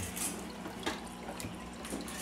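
Water from an established fish tank is poured steadily, a continuous close splashing and trickling with a few small drips.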